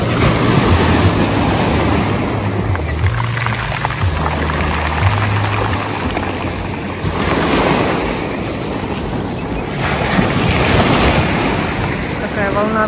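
Sea waves at a beach in Lazarevskoye at sunset roll and wash steadily against the shore under heavy wind buffeting on the microphone, with a low hum and swells rising and falling throughout.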